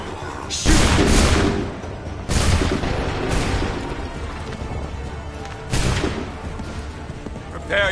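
Soldiers fire musket volleys in Assassin's Creed 3, sending out several loud booming bursts at irregular intervals, each with a rolling rumbling tail over a steady battle din.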